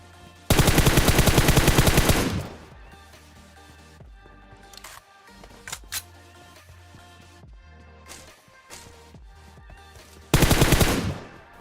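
Automatic M416 rifle and Kar98k bolt-action fire in a battle-royale shooter game: a loud sustained burst of rapid shots opens, then quieter in-game sounds and a few sharp single cracks, before another dense burst closes.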